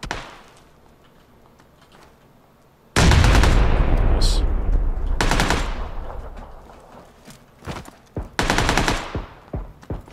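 Automatic gunfire from a PUBG squads match rips out in loud, sustained bursts after a quiet opening, with shorter volleys following and a few voices faintly underneath.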